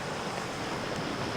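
Steady broadband wash of surf on a shoreline near a lighthouse on Prince Edward Island, with wind buffeting the microphone throughout and no voices.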